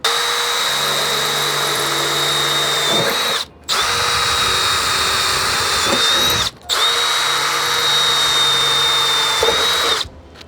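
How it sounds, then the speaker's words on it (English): Power drill boring out holes at marked template locations for a pellet drive install, a loud high-pitched whine held for three long runs separated by brief pauses, near and alone. "Now we're going to fully drill out those locations."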